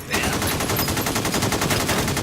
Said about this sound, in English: They're shooting hundreds of rounds.